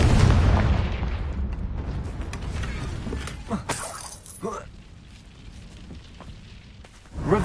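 A Confringo spell cast in Hogwarts Legacy bursts with a loud booming blast and crackling debris, then fades into quieter rumbles with a few sharp pops afterward.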